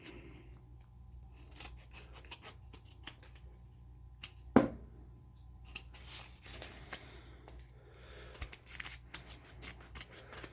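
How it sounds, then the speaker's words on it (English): Scissors snip through fabric seam allowances and clip corners on a small sewn dog waste bag holder, giving a string of quiet, crisp cuts with one sharper snap midway, close by with no talk. "I am going to trim both these edge seam allowances down to about 1/8 of an inch, and I will also clip all 4 corners"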